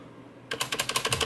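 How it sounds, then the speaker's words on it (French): After a brief quiet moment, the space bar of a Trust YMO wireless keyboard is pressed repeatedly, about seven crisp, evenly spaced clacks close to the listener. "la barre d'espace elle est un peu plus bruyante."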